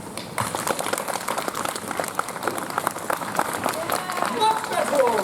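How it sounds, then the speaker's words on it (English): Audience at a Renaissance faire Queen's Court show clapping together, a dense steady patter of hands close by with voices mixed in throughout. "with consistent and controlled pressure, please, clap."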